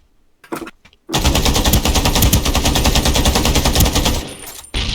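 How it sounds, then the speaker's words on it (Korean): Rapid automatic gunfire in Ring of Elysium sounds as one loud, sustained burst of close shots lasting about three seconds, following a few scattered shots at the start. "야 뒤에 쏜다"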